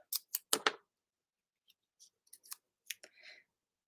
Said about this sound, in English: So I'm going to tape this down.